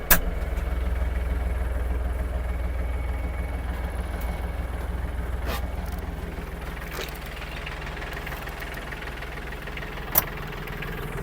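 The engine of an Iseki TG-333 Japanese mini tractor idles steadily at close range, a low chugging rumble with a faint rhythmic knock and a couple of sharp clicks.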